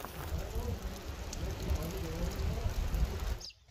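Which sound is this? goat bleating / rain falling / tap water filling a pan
rain falling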